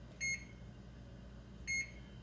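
Two short electronic beeps from a kitchen oven timer, evenly spaced about a second and a half apart, set while a pizza bakes, with a low steady hum underneath and no voices.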